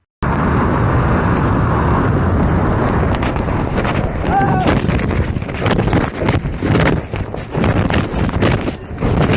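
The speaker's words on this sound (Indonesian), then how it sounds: "awalnya Armin ini terbang dan terdengar suara angin yang melewati tubuhnya" Wind rushes loudly past a man flying from a mountain top, a constant buffeting roar with gusty bursts, briefly joined by a faint tonal chirp midway.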